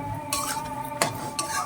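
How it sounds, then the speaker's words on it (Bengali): Utensil scraping and clanking through green cauliflower in a cooking pan, three distinct stirring strokes over a steady low background, no talking. "একে ভালোভাবে নাড়তেই হবে।"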